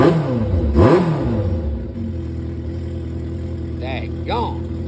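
A cruiser-style sport motorcycle engine revs, rising and falling once in a loud close sweep and then settling into a steady idle hum. Someone talks over part of it.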